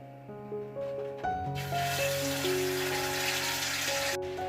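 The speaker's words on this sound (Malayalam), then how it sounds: "പാൻ ചൂടായി ഇനി നമുക്ക് ചിക്കൻ ഇടാം." Chicken pieces hit hot oil in a pan and break into a steady, bright sizzle that holds for several seconds, with melodic background music playing throughout.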